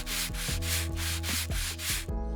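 Sanding inside a mold to smooth away small ridges before working polymer clay, a steady close rasping rub with short strokes repeating about every half second, alone with no voices.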